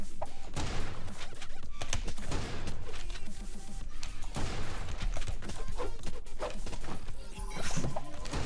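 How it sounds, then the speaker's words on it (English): Shotgun blasts and scattered gunfire in the Creative Destruction battle game, sharp, loud reports repeating irregularly over a busy, noisy background, with no clear pause across the whole stretch. "I have a shotgun."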